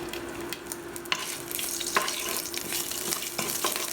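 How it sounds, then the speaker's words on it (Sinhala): Stone-crushed ginger frying in hot oil for a Sri Lankan devilled chicken curry: a steady close sizzle with scattered crackles and scraping stirs throughout, no talking. "දැන් තෙල් ටික රත් වෙගෙන ඉන්නේ. අපි තලාගත්ත ඉඟුරු ටික මේකට දාගමු."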